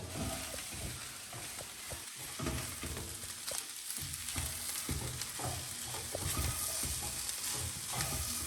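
Shredded cabbage and lettuce tossed together for shawarma make a continuous close rustling, crinkling mix with soft irregular thumps throughout, and no voices.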